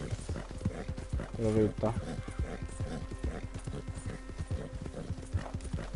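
A horse in the Red Dead Redemption 2 video game trots and gallops with rapid, even clip-clop hoofbeats, joined by a brief whinny, while a person talks over it.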